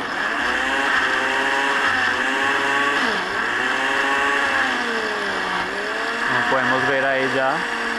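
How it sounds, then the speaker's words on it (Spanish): A blender motor whirs steadily and loudly, its pitch shifting as the load changes while it processes a thick zucchini pesto mixture, running continuously throughout. "ya está suficientemente espesa y líquida a la vez como para que la licuadora lo pueda trabajar"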